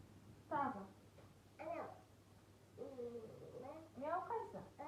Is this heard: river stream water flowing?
no